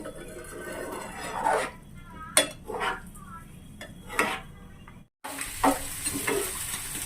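Maggi noodles get stirred slowly in a sizzling pan, with several distinct scrapes and clinks of a utensil against the metal over a soft frying hiss, close by.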